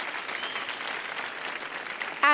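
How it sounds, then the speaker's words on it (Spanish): An audience applauds for chef José Andrés at a talk on creating opportunities for vulnerable populations, a steady wash of clapping from a crowd that carries on evenly for a couple of seconds. "Por favor, un aplauso para el chef."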